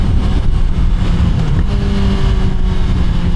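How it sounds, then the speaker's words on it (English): Honda CBR 650 motorcycle with E-Clutch downshifting on the road, a loud continuous engine drone with a pitch shift midway as the gear drops, heavy wind rush over the microphone. "that downshift is real smooth"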